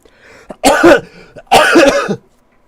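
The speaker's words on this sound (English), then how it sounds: "Coughing began to come from the other side of the room." Two harsh, close coughs, each a short burst of hacking with a brief pause between them, heard alone in a quiet room.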